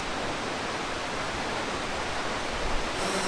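A large waterfall in Valchiavenna, Lombardy, roars in a dense, unbroken wash of falling water, steady and loud throughout with no voices.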